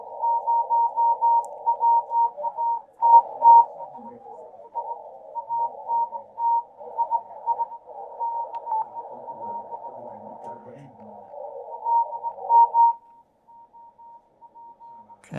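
On a Yaesu FTX-1 radio with noise reduction switched on, CW Morse signals come through as a narrow filtered tone with keyed on-off pulses over about thirteen seconds, then fade to near silence.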